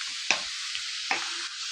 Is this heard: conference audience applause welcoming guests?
no